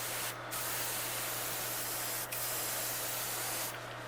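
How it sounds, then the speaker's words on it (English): Airbrush spraying a light coat of sepia paint over a realistic bluegill fish model gives a continuous close hiss, with brief louder bursts near the start, middle and end. "The Sepia will tone everything down. This is where the realism comes in. Alright, so just a light spray."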